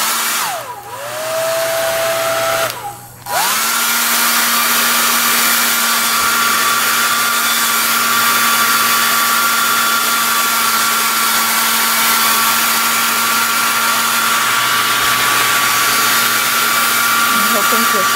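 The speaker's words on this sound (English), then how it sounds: "So last time it seemed to help to use the blow dryer on the bubbles," Blow dryer aimed at bubbles in poured silicone for a mold, a steady loud whirring hum that cuts out briefly twice near the start, then runs unbroken for a long stretch.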